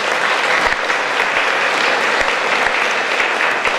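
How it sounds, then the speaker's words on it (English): Audience applause at a 20th anniversary radio gala, steady and dense clapping from a large crowd filling the room without pause, close and loud throughout. "Please give him a round of applause."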